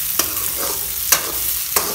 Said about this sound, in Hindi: ये हमारा प्याज हल्का हल्का तेल छोड़ रहा है और ब्राउनिश अभी होने वाली है